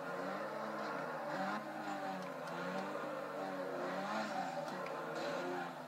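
A car drifting through a corner in Need for Speed Carbon, its engine droning steadily while tires squeal in long wavering sweeps, fairly quiet and continuous without any voices.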